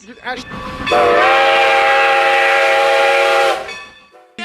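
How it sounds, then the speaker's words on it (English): A train whistle sounds as a sound effect: one loud, sustained harmonic blast of about three seconds that fades away, with brief chatter before and after. "The sound effect already played. Give us a train fact."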